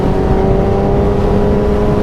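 Motorbike engine droning and revving steadily on an open road ride from Oban back to Glasgow, a loud continuous low rumble with a strong steady tone and no talk.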